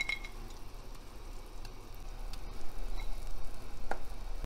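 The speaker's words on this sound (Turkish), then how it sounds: "Şerbetimiz kaynamaya başladı." Sugar syrup simmering in a pot with Kemal Paşa dessert balls, giving a steady soft sizzling bubble that swells a little louder toward the end, with no voices.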